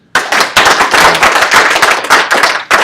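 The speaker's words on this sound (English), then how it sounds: "everyone needs to give Eric a round of applause for getting all this set up here" Loud, close burst of audience applause for an organizer at a summit intro, sharp dense claps packed together over a few seconds, no talk.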